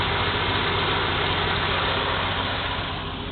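A steady, rumbling engine of a 1982 Chevy truck idles continuously at close range, with an even low drone and no other sounds.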